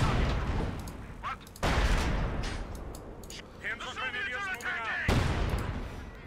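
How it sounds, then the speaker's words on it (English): Artillery barrage and gunfire in the World War II strategy game Company of Heroes 2: heavy booming blasts and crackling rifle and machine-gun fire roll continuously, with loud shell impacts surging in waves and someone talking over the battle. "Keep firing. And then we've got another barrage available, so we'll keep on barraging him."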